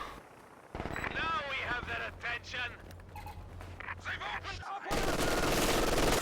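MG2 machine gun fire rattles in a video game with a sniper involved, coming in bursts of sharp rapid shots mixed with other game effects, while someone talks over it.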